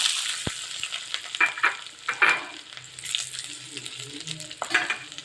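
Washed boiled rice with garlic frying in hot coconut oil, a steady close sizzle broken by several sharp scraping stirs of a spoon against the pan.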